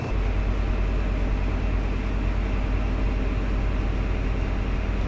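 The locomotive engine in a train simulator game on a Bristol–Penzance route with a Class 50 or MTU unit runs with a constant loud low rumble and broad noise, steady and unbroken throughout.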